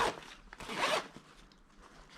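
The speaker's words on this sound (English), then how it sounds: "there's a zip here which again you can remove it totally and possibly remove it from the bag" A zipper on a Rhinowalk 30L motorcycle tailbag for a Triumph Trident 660 opens in one long rasping pull, close and fairly quiet, with softer scraping afterward and no talking.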